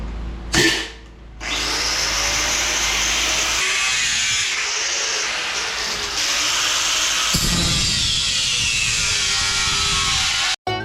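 A power tool cuts through a metal part during a radiator repair on a 1964 car. A short burst is followed by a pause, then a long, loud, steady high whine that ends abruptly near the close.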